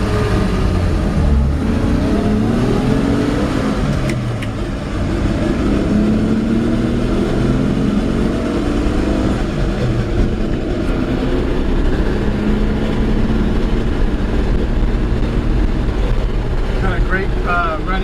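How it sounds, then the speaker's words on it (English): A 1956 Chevrolet 3100 pickup with its original six-cylinder engine and column-shift three-speed driving along, a loud steady engine drone with rising and falling tones as it pulls through the gears, close and continuous. "Great running engine."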